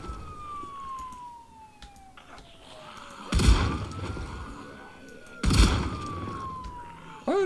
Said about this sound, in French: Au moins c'est pas trop fort la sirène.